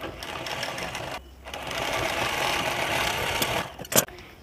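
A sewing machine runs steadily while stitching a folded strip along a silk blouse sleeve, its whirring motor close and continuous, broken by one short pause and a sharp click near the end.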